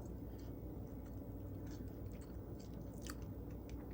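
Crispy, crunchy dried pork fat is chewed in faint, scattered crunches over a steady low background hum.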